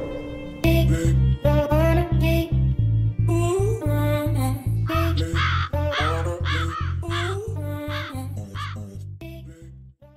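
A crow cawing loudly and steadily, its harsh calls repeating in a rapid rhythm over a constant low drone and fading slightly toward the end.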